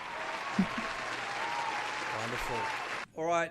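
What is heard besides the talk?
audience applause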